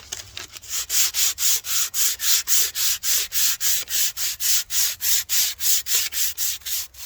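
Cheap 220-grit sandpaper is rubbed by hand across a Jeep CJ5 body panel in steady, rhythmic back-and-forth strokes, roughly three per second, a close, dry scratching repeated evenly with no talking.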